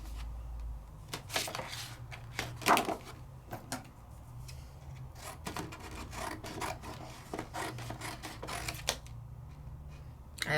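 A Sizzix die-cutting machine cuts yellow paper in a quiet room, with faint ratcheting clicks, scraping and rasping rolling along unevenly.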